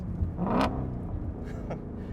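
Stock Ford Shelby Mustang GT350 exhaust gives a short, fairly quiet rumbling burst with a brief rev swell, then settles to a low idle-like drone.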